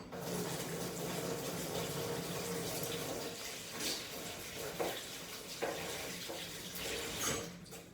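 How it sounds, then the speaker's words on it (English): Hands being washed under a running kitchen tap before cooking chilli con carne, a steady close rush of water with occasional splashes and soft knocks as the hands move through the stream. "so I'll just wash my hands and then we'll be ready to start"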